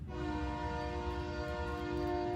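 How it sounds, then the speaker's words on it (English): Train horn sounds one sustained, steady chord over a low rolling rumble of the passing train, loud and continuous throughout. "It is time for the train, and it's 9:35."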